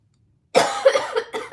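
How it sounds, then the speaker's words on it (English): A single close cough bursts out after silence, followed by a few rougher coughing sounds. "I have a cough."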